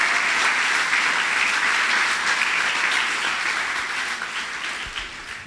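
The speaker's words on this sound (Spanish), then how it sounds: "Dele un aplauso fuerte al Señor." A congregation at a church service gives loud, sustained applause, a dense wash of many hands clapping that fades slightly toward the end.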